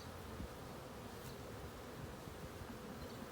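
Honey bees buzz in a dense, steady swarm drone during a May hive inspection under a hive drape, the hum continuous and close with no voices.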